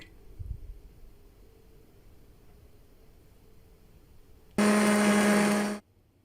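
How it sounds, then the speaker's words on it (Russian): A kitchen blender whirs loudly and steadily for about a second as it mixes a pink morning drink, then stops abruptly. A quiet room comes before and after. "блендер нам сделает напиток"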